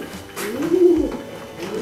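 A caged bird calls once at a bird market, a soft, low, drawn-out cooing note that is close and clear against light background murmur.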